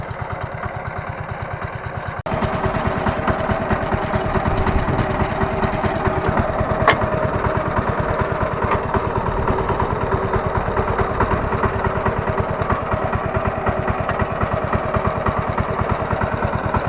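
A Kentavr 1010 DE walk-behind tractor pulling a potato planter chugs steadily and loudly throughout, its engine revving up after about two seconds and holding a constant, close rumble with no talk.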